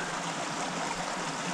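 Creek in the Upper Buffalo Wilderness Area flowing as a steady, even rush of water that stays constant from start to finish.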